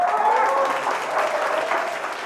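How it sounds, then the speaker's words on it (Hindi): Audience applause welcoming a singer on stage in a TV drama episode, dense sustained clapping from a crowd with some cheering, loud and even throughout. "जोरदार तालियों से स्वागत कीजिए"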